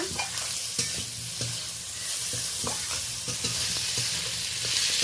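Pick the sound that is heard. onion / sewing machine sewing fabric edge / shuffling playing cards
onion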